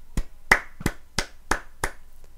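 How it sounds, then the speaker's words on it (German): Several slow, separate hand claps ring out one after another, six sharp slaps spaced evenly apart, with no other sound between them. "Ein Applaus für dich."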